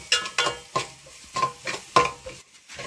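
Ingredients being sautéed and stirred in a pan for a Kerala village-style coconut-based anchovy (netholi) fish curry: a soft, steady sizzle broken by about six distinct scraping stirs of a spoon against the pan, close up, with no talking.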